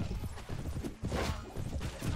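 Galloping horse hooves in the medieval video game Mount & Blade: Warband, a busy run of quick, uneven thuds close by, mixed with battle noise and a brief spoken voice.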